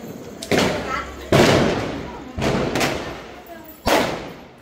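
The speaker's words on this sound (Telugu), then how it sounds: "కాల్సారా బాంబులు?" Four loud, sharp Diwali firecracker bangs at a house, spaced about a second apart, each followed by a short fading rumble, with talk going on between them.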